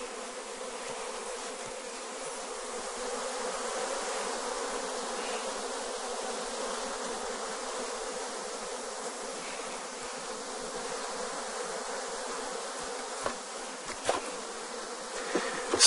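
A honeybee hive colony hums with a steady, dense buzzing that stays even and close throughout, with a few faint knocks near the end and no talking.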